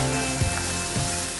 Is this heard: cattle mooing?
no